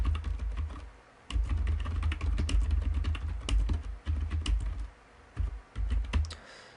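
Steady typing on a computer keyboard, clicks coming in quick irregular bursts with brief pauses between, close and moderately quiet.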